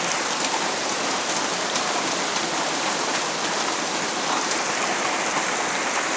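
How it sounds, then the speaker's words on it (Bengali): Heavy rain pours down steadily and loudly, a dense continuous hiss of drops drumming on surfaces throughout, with no voices. "দেখেন প্রচণ্ড বৃষ্টি"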